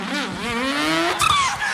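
Artificial BMW engine sound piped through a car speaker, a rising synthetic engine hum with tonal harmonics that climbs in pitch, then a brief tire-squeal-like swell near the end, loud and close with no talk.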